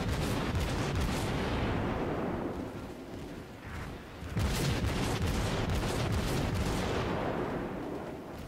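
Naval gunfire from a Tier 4 Kuma cruiser in World of Warships, rolling salvos of booming shots layered into a continuous rumbling barrage, with a brief lull midway before firing resumes.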